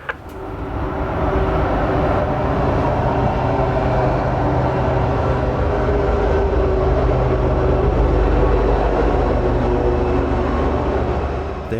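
A freight train hauling trash rumbles steadily past a station on the Pittsburgh Line, a loud, continuous roar of wheels and railcars that holds evenly for the whole stretch.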